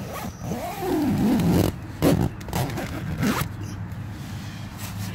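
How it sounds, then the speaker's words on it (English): The zipper of a North Face Mountain 25 tent door is pulled shut in a few long, scratchy strokes with brief pauses, close and fairly loud, with no speech. "you can zip this up."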